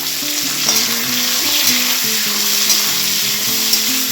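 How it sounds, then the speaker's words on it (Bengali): Onion and capsicum fry in a pan, giving a loud, steady sizzling hiss close by with faint stirring, while a melodic music track plays over it and no one talks. "ফার্স্টে আমি পেঁয়াজ আর ক্যাপসিকামটা দিয়ে দিচ্ছি।"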